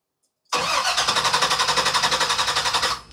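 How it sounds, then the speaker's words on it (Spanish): A gasoline car engine with no fuel pressure cranking without starting: a steady, rhythmic whirring of the starter turning the engine over for about two and a half seconds, close and loud, then stopping without catching. "Definitivamente el motor no prende."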